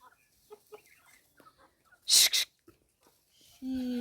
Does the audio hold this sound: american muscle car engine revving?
no